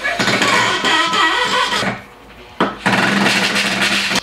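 A counterfeit Makita cordless screwdriver drives long 150 mm screws, whirring loudly and close by, cutting out briefly, then straining back up to full power.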